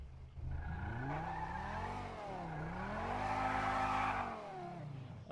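A modded racing car engine in Grand Theft Auto V revs and drones loudly, its pitch sweeping down and back up as it accelerates, with no one talking.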